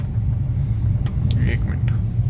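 Low engine rumble of a car slowing and pulling over to the roadside, steady and close, with a few faint clicks and rustles above it and no talk.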